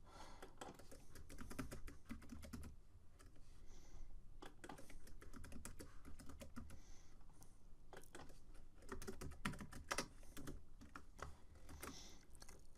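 A password is typed on a computer keyboard in quiet bursts of rapid keystrokes separated by short pauses. The faint, close clicking continues for several seconds with no speech.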